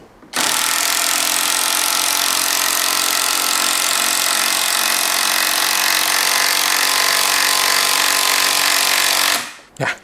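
A Masaru SCDI-145 cordless impact driver drives a screw into wood, producing one loud, sustained hammering whir that runs for about nine seconds before stopping abruptly, with no talk over it.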